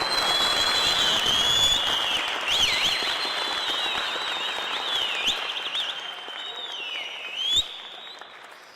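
An audience claps through a village council ceremony where an appointment certificate is handed over, sustained applause from a crowd that slowly thins toward the end, overlaid with high whistling tones and one sharp knock.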